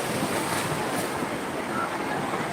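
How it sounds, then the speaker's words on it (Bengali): Surf and wind at Digha sea beach as a boat sets off through the waves, a dense continuous wash of water with gusty wind noise, with no distinct engine note standing out. "এই যে এই বোটটা এখনই ছেড়ে যাচ্ছে"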